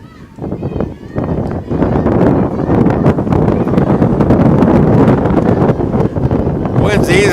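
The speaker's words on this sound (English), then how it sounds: "Winds easily sustained 20 right now, gusting over 30." Strong gusting wind at an outdoor softball game, a loud, roaring rush buffeting the microphone almost throughout, rising after a quieter opening second.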